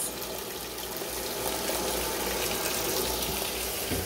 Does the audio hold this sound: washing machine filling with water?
yes